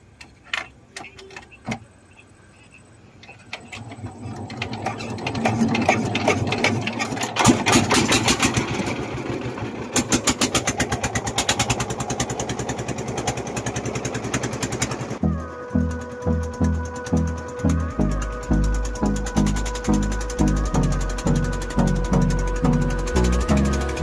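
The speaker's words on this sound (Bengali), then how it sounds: "ট্রলার, এটা এখন ছাড়বে।" River trawler boat engine starting up and running at the riverbank, building to a loud steady drone, then a rhythmic low chugging thump near the microphone.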